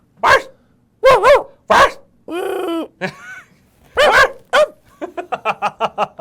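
A person imitates a puppy barking with a string of close, loud yaps, a drawn-out whine in the middle and a quick run of short yips at the end, with no other talk.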